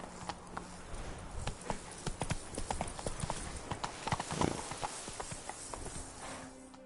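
A horse in The Witcher 3: Blood and Wine gallops along in a quick, steady clip-clop of hoofbeats, moderately close, with faint ambient game sounds behind it.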